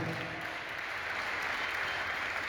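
Congregation clapping in a church, a dense steady wash of applause filling the space evenly throughout with no break.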